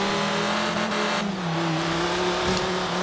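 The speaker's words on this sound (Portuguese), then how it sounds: "Mano, vocês estão acelerando, hein?" Cars accelerating in the racing game Forza Horizon 3, a steady loud engine drone with rising and shifting pitch, continuous throughout with faint tire noise and no talk.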